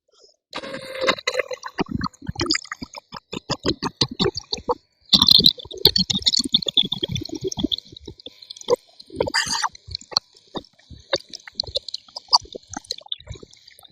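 While gold prospecting, water drains and splashes in uneven bursts of gurgling and sloshing, with short pauses and scattered sharp drips and knocks.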